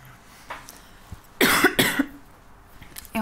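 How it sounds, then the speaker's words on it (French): A person who is slightly sick coughs twice in quick succession, harsh and close, against a quiet room background with faint rustles before and after. "Je suis un petit peu malade. C'est pour ça que je tousse."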